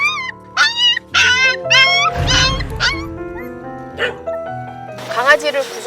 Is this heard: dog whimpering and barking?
yes